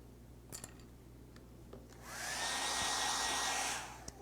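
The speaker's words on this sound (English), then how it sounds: "I'm gonna grab the hair dryer." A hair dryer on a high setting blows air to dry paint, starting about halfway through as a steady broadband whoosh that holds level at close range, then cuts off, with a few soft clicks and knocks before it.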